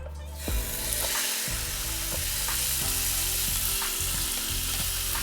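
Steaks sizzle and fry steadily in butter in a pan, a loud, continuous crackling hiss with occasional stirring or shifting, with no talk.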